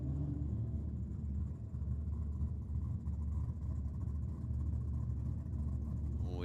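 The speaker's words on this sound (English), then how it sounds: "We can hear some very nice V8s under the tunnel" V8 engines at a night drag racing and burnout event in Sydney give a continuous deep rumble heard from a distance, steady in level with no sharp revs standing out.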